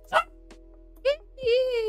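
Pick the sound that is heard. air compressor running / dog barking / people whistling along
dog barking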